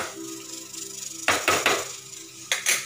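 A metal lid is set on a cooking pot of simmering vegetable curry, giving a few close clattering knocks and rattles over a soft background hum, without speech.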